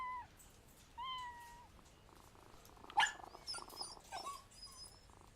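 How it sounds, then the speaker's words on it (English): An injured cat in Sherlock Holmes vs. Jack the Ripper gives a few plaintive meows and a short purring growl, faint and spaced apart, with no talk. "This cat seems to be in a sorry state."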